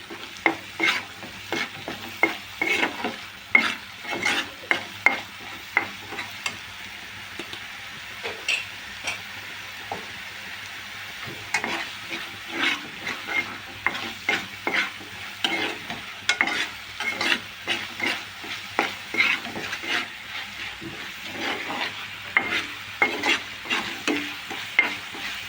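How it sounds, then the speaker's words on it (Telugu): Ginger-garlic paste frying in hot oil for a fish curry, a steady close sizzle broken by repeated scraping stirs of a spoon in the pan, no voices. "మనం ఇప్పుడు ఒక 2 టేబుల్ స్పూన్లు అల్లం వెల్లుల్లి పేస్ట్ వేసుకుందాం"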